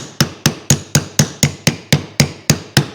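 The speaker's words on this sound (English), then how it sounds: "I'm just going to use a wooden mallet." Sharp wooden knocks from a wooden mallet while installing a Byrd Shelix cutter head on a Powermatic 60 jointer, twelve evenly spaced strikes at a steady, brisk rhythm, close and fairly loud with no talking.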